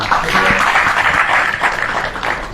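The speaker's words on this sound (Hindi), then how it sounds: "तालियां रुकनी नहीं चाहिए" Loud, dense applause from a large crowd at a temple discourse, continuous and steady throughout, with a faint murmur of voices mixed underneath.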